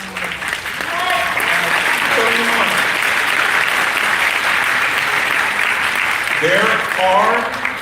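An audience at a political gathering applauds in a steady sustained clatter, with a voice talking over the clapping at the start and again near the end.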